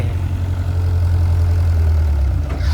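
A 195-horsepower excavator, an old machine bought as scrap and used for digging soil, runs at a steady idle: a loud, continuous low engine rumble with no voices.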